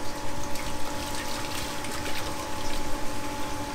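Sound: power flushing machine pumping water through heating system

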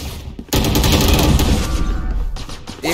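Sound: gunshots in the video game Valorant

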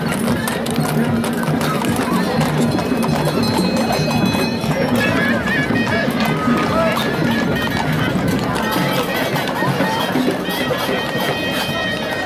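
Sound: horse-drawn carriage with two horses, hooves clip-clopping

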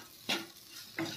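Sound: stirring spices with amchur powder in a pan

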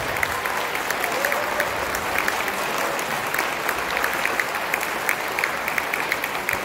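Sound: audience applause for band volunteers

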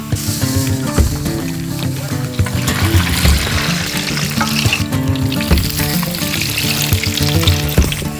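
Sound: deep-frying pork chicharon popping in oil

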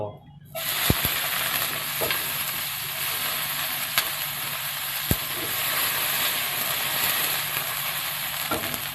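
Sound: bean sprouts stir-frying in oil in a hot pan

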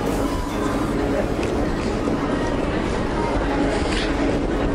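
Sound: number 96 tram passing on Acland Street, St Kilda, Melbourne

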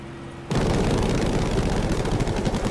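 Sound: Spitfire strafing infantry with guns in Battlefield 5 video game

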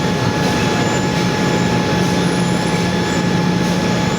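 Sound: electric motor on a VFD speeding up from 16 to 20

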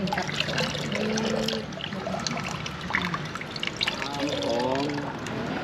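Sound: rinsing fresh rice noodles (khanom jeen) in water

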